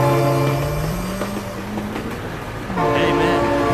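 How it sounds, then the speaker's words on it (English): A train rumbles past loudly in the BeamNG.drive driving game, with a horn-like tone and rolling rail noise swelling near the end, close and dominant over faint background sounds. "Oh my god, train!"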